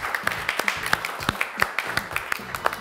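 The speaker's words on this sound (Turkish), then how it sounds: "Alkışlıyoruz kırmızı takımı" Audience clapping for the winning red team at the end of a game-show competition, a moderate run of claps at a fairly quiet level with some talk mixed in.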